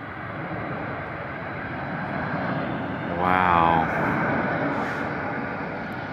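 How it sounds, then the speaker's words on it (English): A fixed-wing airplane passes close overhead on its landing approach at a lakeside park near an airport, its engine roar swelling over a steady rumble of wind and traffic before easing off again. "See if we can catch that airplane up close."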